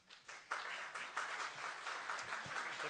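An audience applauds at a press conference in London, a steady burst of many hands clapping from a moderate distance, lasting several seconds without any voices.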